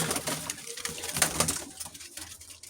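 Pigeons coo softly in a steady, overlapping chorus, with some rustling and wing movement nearby.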